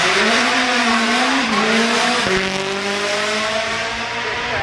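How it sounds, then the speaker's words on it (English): A rally car climbs the Goodwood hill at the Festival of Speed, its engine loud and close, with the pitch rising and dropping sharply through gear changes under hard acceleration. "we're going to see yet another rally car take up the hill"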